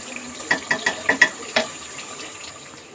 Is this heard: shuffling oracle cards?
no